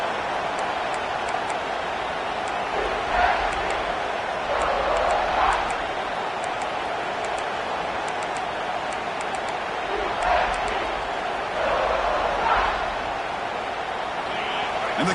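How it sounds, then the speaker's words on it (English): An NFL stadium crowd roars as the defense tries to hold in the red zone: a steady, dense roar that swells a few times. "And the crowd coming to life here, trying to help this defense down in the red zone."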